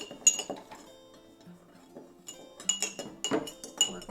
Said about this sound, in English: Okay, let's stir this up really well.